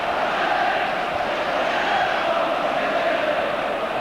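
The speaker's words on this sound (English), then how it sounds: "And they certainly have made plenty of noise." A big stadium crowd at the 1982 Scottish FA Cup Final between Aberdeen and Rangers keeps up a dense, continuous roar of cheering and chanting that stays loud and even throughout.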